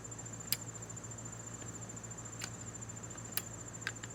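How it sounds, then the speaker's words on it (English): Recurve bow limbs click into a Hoyt Formula XD riser with a new locking system, giving a few sharp, quiet clicks over a steady faint background hum, no talking. "Let's go click these limbs in. See if they sound any different."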